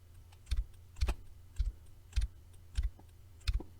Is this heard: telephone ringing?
no